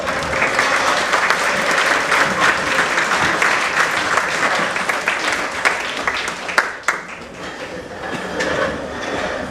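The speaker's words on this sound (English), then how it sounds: "Please rise as we give him a round of applause." Audience applause for a guest of honor, Advocate Mwabo Hamatho, at a formal transformation indaba, with the crowd standing. Dense, steady clapping fills the room and runs throughout, easing slightly near the end.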